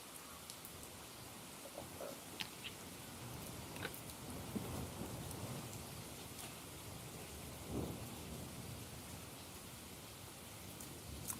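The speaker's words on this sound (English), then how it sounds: "I just put on rain today because I felt like the music was a bit in my face." A recorded rain and thunder ambience plays quietly in the background, a steady hiss of falling rain with soft low rumbles of thunder rolling through.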